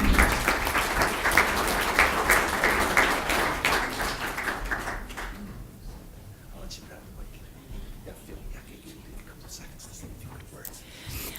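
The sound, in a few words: applause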